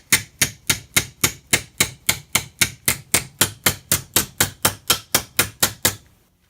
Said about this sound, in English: A few slight taps with the hammer.